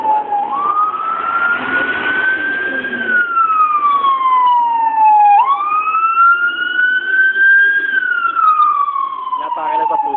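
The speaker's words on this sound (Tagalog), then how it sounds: "Oo, may wangwang." A loud emergency siren wails up and down in long sweeping tones close by, with people talking faintly underneath.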